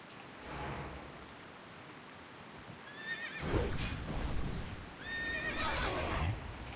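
A horse in World of Warcraft's Gilneas City whinnies twice in bright, descending neighs, with a shuffle of hooves and ambient game noise in between.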